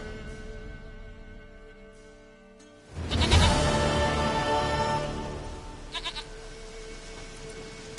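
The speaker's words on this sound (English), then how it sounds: "Goat of mine, dearest," A goat in the video game The Witcher 3 bleats loudly and near, a long wavering call breaking over quiet ambience, then a few shorter bleats trail off.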